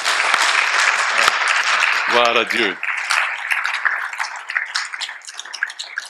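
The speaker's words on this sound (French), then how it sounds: "Est-ce qu'on peut applaudir le Seigneur" A church congregation at a 30th-anniversary evening service bursts into full, lively applause that keeps going, with a voice briefly calling out over the clapping.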